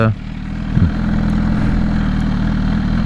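A 2021 MV Agusta Rush motorcycle with a BT Moto ECU flash tune idles steadily with a low, even rumble, holding a constant rhythm after a brief bump at the start.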